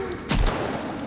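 A single loud gunshot in the survival video game Sons of the Forest, one sharp blast with a short decaying tail, close and brief over a background of game ambience.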